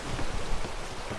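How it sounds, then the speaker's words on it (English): Calm sea waves in the video game Atlas make a soft, continuous wash of watery hiss and gentle splashes, fairly faint and unbroken, with no voices. "Look how calm the waves are."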